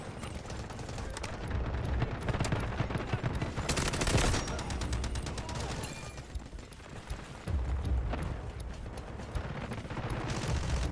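An artillery barrage in a Rockstar video game rumbles on through dense, overlapping booms and rattling blasts. It stays heavy and continuous, with thicker bursts around the middle and again near the end, and no voices.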